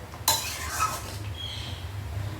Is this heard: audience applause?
no